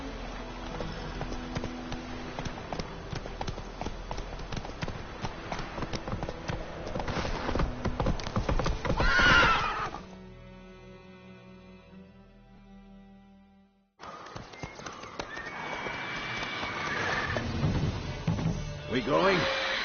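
Roach, a horse in a PS4 video game, runs with rapid, rhythmic hoofbeats under game dialogue and background score. The galloping fades into a muffled lull partway through, then picks up again with voices over it.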